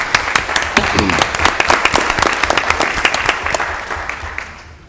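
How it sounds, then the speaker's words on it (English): A big round of applause in a city council meeting chamber, dense clapping from many hands that swells, holds steady, then thins out toward the end. "Let's give him another big round of applause"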